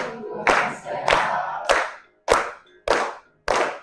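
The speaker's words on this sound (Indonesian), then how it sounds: "Boleh tepuk tangan." A group of people clap in unison during a warm-up at a teacher-training session, giving about six sharp, loud, crisp bursts at uneven intervals with brief pauses between them.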